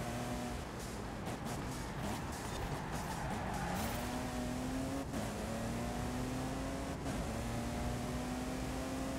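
A semi truck with a 12-liter engine in the Forza Horizon Hot Wheels racing game, its engine droning steadily and loudly, climbing in pitch as it accelerates and shifting gears partway through.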